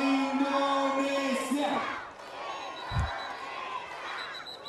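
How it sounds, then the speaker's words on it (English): Spectators chant and cheer at an Asian Games cycling road race in Indonesia as the last riders come home, a continuous crowd roar with a commentator's voice on top and one dull thump. "Now the crowd chant home the final Indonesian riders."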